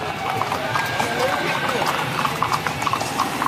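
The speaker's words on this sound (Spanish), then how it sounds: "Aquí están ya algunos de los jinetes, ya van en sus cabalgaduras," Horses' hooves clip-clop in quick, steady strikes as riders gather for a cavalcade in Yautepec, Morelos, with crowd noise around them and someone talking over the sound.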